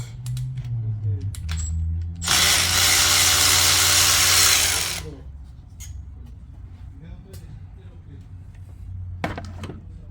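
A power tool loosening a bolt on an Audi RS7 front brake knuckle, one loud whirring burst of about three seconds in a quiet garage, with someone talking before and after.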